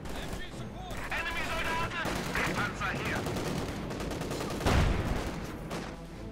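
Rapid MG42 machine-gun bursts and other gunfire from a Company of Heroes 2 battle, dense and continuous with a heavy explosion near the end, under a commentator's voice.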